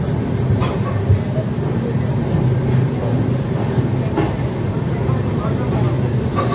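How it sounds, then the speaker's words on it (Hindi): Lucknow–Patliputra Superfast train pulling into platform 3 at Gonda Junction, a steady loud low rumble of rolling wagons with faint intermittent clatter, continuous throughout with no speech. "भाई अपनी ट्रेन का प्लेटफॉर्म नंबर 3 पे अराइवल हो रहा है"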